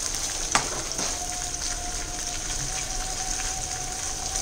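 Paneer browning in a hot pan gives a steady, dense sizzle throughout, with a few brief clinks or stirring knocks near the start.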